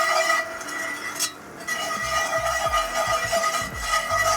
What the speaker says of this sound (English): Equal weight in flour that you had in butter, and mix that through, and that will start to thicken into a paste.